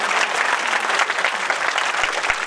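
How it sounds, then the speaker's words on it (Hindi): Audience applause at a Mahashivratri festival gathering, a dense steady clapping from a sizeable crowd that continues for the whole clip, fairly close, with a couple of low thumps near the end. "तालियां"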